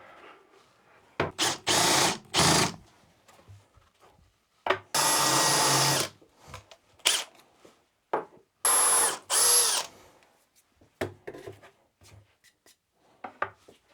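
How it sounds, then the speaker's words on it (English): A power drill whirs in several short bursts of a few seconds each, pre-drilling MDF, with quiet handling noises and scraping between runs. "Always pre-drill MDF."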